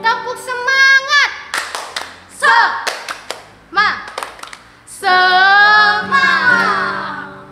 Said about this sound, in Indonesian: Untuk itu kita harus tepuk semangat, oke?